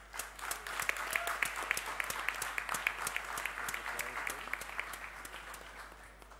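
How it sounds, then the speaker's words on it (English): An audience at a startup competition's final-day event applauds a fifth-place winner, a fairly sparse crowd clapping with distinct individual claps, moderately loud and gradually thinning toward the end. "please give a round of applause to"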